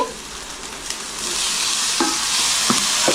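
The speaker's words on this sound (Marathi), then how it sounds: "आता त्याच्यामध्ये मी टोमॅटो टाकते" Tomatoes drop into a hot cooking pot, and a loud, close sizzle builds and then holds steady, with a few clinks of stirring near the end. No one speaks.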